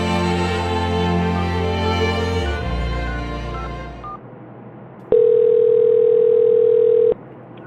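A telephone line left open after a disconnected call: a steady continuous tone sounds alone for about two seconds, following a fading tonal stretch and a brief quiet gap.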